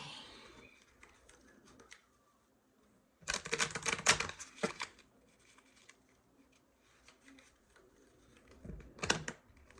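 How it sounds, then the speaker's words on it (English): Small tarot cards are shuffled close by in two short bursts of dense crisp riffling and clicking, separated by quiet gaps, with faint room noise between and no talking. "these little bitty cards are the hardest things in the world to shuffle"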